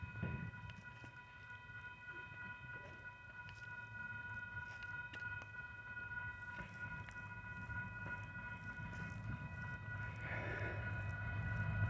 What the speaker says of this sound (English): southbound UP intermodal train.